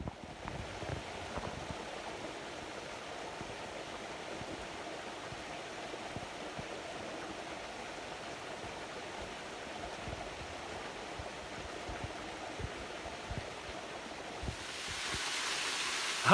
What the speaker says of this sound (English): The waterfall looks good.